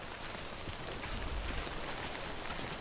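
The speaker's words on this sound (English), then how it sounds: "this rain can destroy your shit eventually, which is very obnoxious." Steady rain in the video game Death Stranding: a dense, even hiss of falling drops that fills the whole short stretch at constant strength, with no voices.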